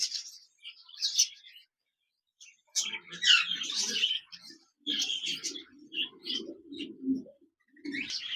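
A pair of pet budgerigars, a lutino red-eye male and an albino red-eye female, chirping and twittering close by in short bursts, with gaps of near silence between the calls.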